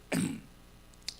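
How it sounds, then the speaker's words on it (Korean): A single short throat-clearing cough from a person with a fan blowing air at the face, close and fairly quiet, followed by a faint click. "바람이 막 코를 치니까 기침이 나와버려."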